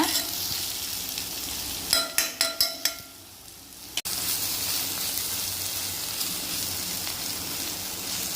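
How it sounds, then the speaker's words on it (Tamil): Vegetable puttu sautéing in a pan: soft steady sizzle throughout, with a quick run of five sharp spatula clatters against the pan midway, a brief quiet dip, then a single knock before the sizzle resumes. "இப்போ இதை நல்லா வதக்கி கொஞ்சம் இப்படியே நல்லா பரப்பி சிம்மில் வச்சு கொஞ்ச நேரம் விட்டுருங்க."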